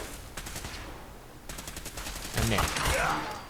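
Gunfire in Fallout 4 crackles through a battle in bursts of quick rattling shots, with a louder volley near the end, while a voice talks over the fighting.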